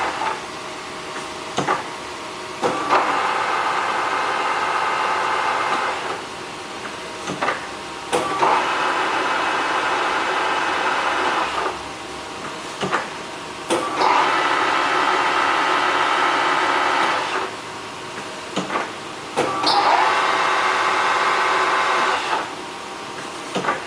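A Kearney & Trecker 12" x 56" universal horizontal and vertical mill runs its spindle at a maximum of 2,000 RPM. A steady mechanical whine rises in several five-second bursts, separated by brief quieter dips.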